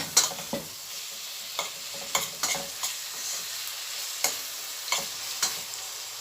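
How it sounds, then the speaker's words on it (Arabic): Minced meat stirred and fried with onions and spices for a stuffed chicken and rice dish: a steady sizzle broken by repeated scraping strokes of a spoon in the pan, close and clear, with no talk. "واقلبهم مع بعض كويس لحد ما اللحمة ان هي تتعصج"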